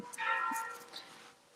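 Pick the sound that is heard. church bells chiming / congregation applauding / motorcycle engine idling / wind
church bells chiming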